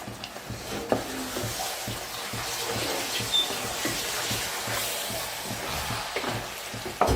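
Chicken pieces with onion and ginger sizzle in a pot for Kerala-style chicken biryani, stirred with soft scraping and occasional clinks over a continuous frying hiss.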